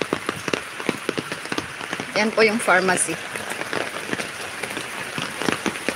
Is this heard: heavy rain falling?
yes